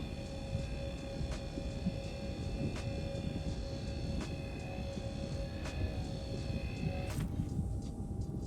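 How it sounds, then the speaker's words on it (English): A spaceship engine throttles up in Star Citizen, a steady low roar with a faint high whine over it and regular soft ticks, ending in a brief sharp burst. "Just giving it a little throttle to see if it'll stay stable."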